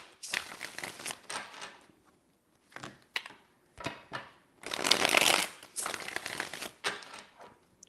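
Tarot cards shuffled in bursts of crisp riffling and flicking, with pauses between handfuls and a longer, louder shuffle near the end, close and with no voices.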